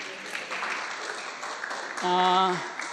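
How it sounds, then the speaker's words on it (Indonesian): An audience at a church youth worship service claps for a young man named Ivan, a steady patter of applause that swells toward the end while a voice and a brief tonal sound ring out over it. "Tepuk tangan untuk Ivan."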